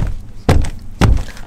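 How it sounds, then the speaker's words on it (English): Someone forces a frozen car door during heavy London snowfall, producing two heavy, close thuds about half a second apart, with quiet pauses between them. "My door is actually frozen."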